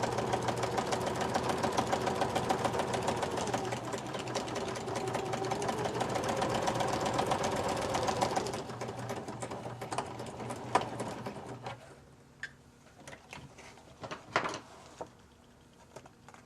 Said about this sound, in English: I will sew the length